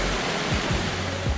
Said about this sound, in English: It's one of the biggest waterfalls in the world